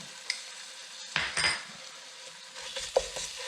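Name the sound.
garlic added to sizzling onions in a pan, goulash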